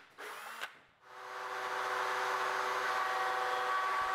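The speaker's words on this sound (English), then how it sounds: "pilot holes with a countersink can be drilled along the center line through the spring" A power drill with a countersink bit bores pilot holes through a wooden spring into a block on a folding breakfast tray, a brief start, then a close, steady, rising whine held for several seconds.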